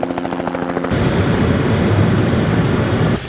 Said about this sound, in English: we got a rescue chopper coming inbound.